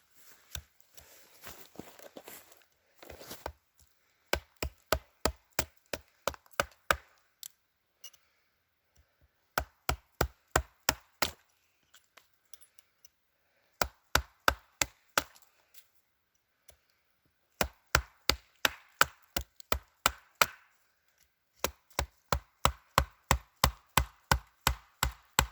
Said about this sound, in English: It's much easier to get this fatwood out of this stump with a hatchet than it is with a knife.